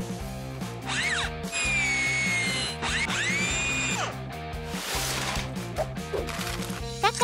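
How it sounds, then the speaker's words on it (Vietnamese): A power drill whines and revs up in two bursts, biting into a wooden board while music plays in the background. "Mình sẽ khoan ván vào đây."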